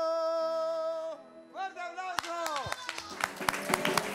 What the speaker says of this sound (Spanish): ¡Fuerte aplauso! ¡Arriba el cabaret!